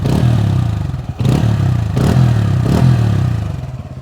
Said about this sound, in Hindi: तो काफ़ी अच्छी आवाज़ आएगी आपको इंजन से